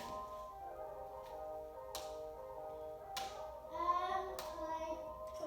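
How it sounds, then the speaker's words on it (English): Tap dance clap and heel steps in a basic tap class, a few sharp separate strikes spaced out over a steady background tone, moderately close and fairly faint. "this clap, heel, heel combination."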